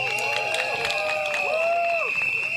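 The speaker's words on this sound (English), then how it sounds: "Please give him a round of applause." A crowd at an evening election rally in a Singapore stadium cheers and shouts continuously, with scattered clapping. The sound is steady and moderately loud, with voices rising and falling throughout.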